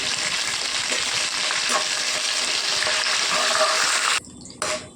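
Curry leaves frying in hot tempering oil for rava upma, crackling and sizzling loudly and steadily before the sound briefly drops away near the end.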